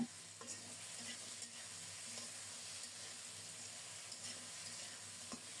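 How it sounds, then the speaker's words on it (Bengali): Chopped onion, garlic and taro stolons sauté in a pan. A steady sizzle runs quietly throughout, and faint stirring scrapes come at intervals. "নেড়ে চেড়ে পেঁয়াজ রসুন কিছুক্ষণ ভেজে নেব"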